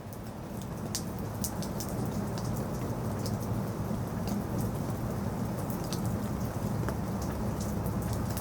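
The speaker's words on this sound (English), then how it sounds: "We also have the rain from outside becoming muffled." Steady, dense rain heard from outside, softened and muffled as though through walls, a continuous hiss with a low rumbling body and occasional brighter drop ticks, with no voices.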